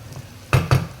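Cucumber being stir-fried with cooking sauce in a pan: a soft background sizzle, then two sharp metallic clanks of a utensil against the pan in quick succession, close by.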